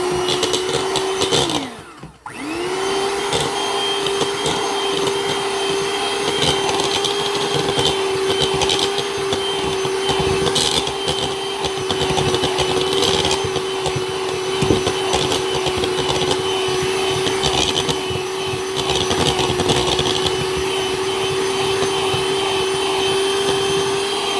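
Electric hand mixer creaming butter and sugar for butterscotch bars, a steady loud motor whine running continuously after a brief dip near the start, with no talking.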